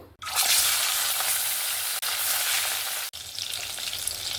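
Pieces of katla fish fry in hot oil, a loud, steady sizzle that keeps up without a break, cut by two brief pauses, with no talking.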